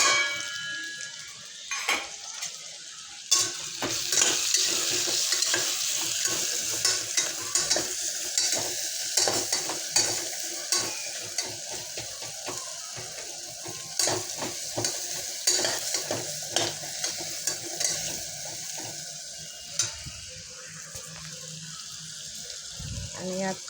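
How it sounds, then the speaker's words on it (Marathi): Spatula stirring Khandeshi khichdi with turmeric and masala in a pan, giving a steady sizzle and repeated scraping strokes throughout, close and moderately quiet, with faint kitchen clatter. "त्यामुळे थोड्या वेळाने आपल्या उलटणीच्या सहाय्याने हलवत राहायचं"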